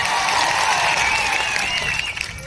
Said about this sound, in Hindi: एक बार जोरदार आपके लिए तालियां बजा दी जाए